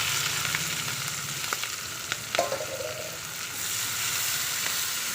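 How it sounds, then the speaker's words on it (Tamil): Chopped onion, green chili and curry leaves sizzle steadily in hot oil that already holds popped mustard seeds, a continuous close frying hiss with a few soft spatula scrapes and taps. "அதில் வெங்காயம் போட்டுடலாம் வெங்காயம் பச்சை மிளகா கருவேப்பிலை"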